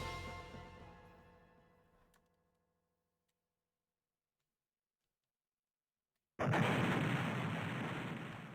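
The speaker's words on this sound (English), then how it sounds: "What could have caused that explosion?" An explosion in the video game Shining Force III, a loud sudden blast with a long roaring decay, preceded by a fading ringing tone and a few seconds of silence.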